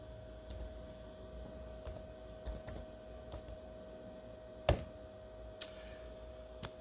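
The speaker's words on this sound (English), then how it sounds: "So here I'm typing Sysprep." Faint, scattered keystrokes on a computer keyboard click sparsely in a quiet room, with one sharper tap standing out.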